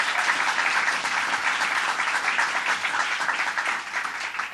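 A crowd at a teaching award ceremony applauds elected officials, a dense, loud, continuous wash of clapping that holds steady for several seconds before easing slightly.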